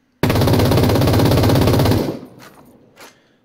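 A FAMAS rifle in Ring of Elysium fires one loud, continuous burst of very rapid shots for about two seconds, then stops, leaving faint clicks and a short echoing tail.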